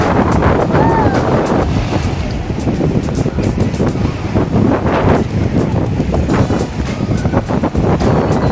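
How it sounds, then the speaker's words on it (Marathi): Sea waves break and wash onto Kunkeshwar beach in a loud, continuous roar of surf mixed with heavy wind buffeting close to the microphone, the surge swelling and easing through the whole stretch. "लाटा येत आहेत."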